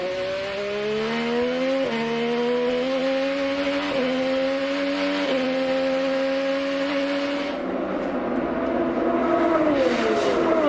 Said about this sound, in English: James Hinchcliffe on pit road for his stop